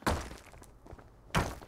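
A stone pickaxe strikes a player's base in the Rust survival game, giving two dull, heavy thunks about a second and a quarter apart, close and fairly loud, with quiet background between them.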